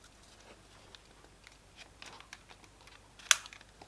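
A Nintendo Switch Joy-Con controller slides onto the console with faint scraping, then snaps into place with one sharp, close, fairly loud click near the end. No one talks.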